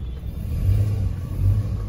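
Car engine idling and rumbling as the car parks at Orion Mall, a steady low drone with slight swells in revving, close and fairly loud, with no talk.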